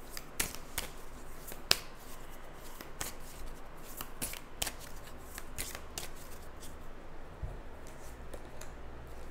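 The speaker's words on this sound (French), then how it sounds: "Je vais tirer une dernière carte." Tarot cards being shuffled and drawn, a soft continuous riffling and sliding with scattered sharp card snaps, close and fairly quiet with no talk.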